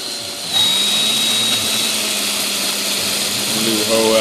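A steady, high-pitched rotary whine from a power tool buffing a silver coin ring with a homemade sand buffing compound, close and continuous with a slight pitch shift partway through.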